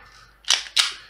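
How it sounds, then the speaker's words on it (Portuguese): A Taurus 24/7 spring airsoft pistol is cocked in two quick, sharp mechanical clicks, close and isolated, the slide snapping back and then locking. "Faça uma força um pouco extra para engatilhar direito."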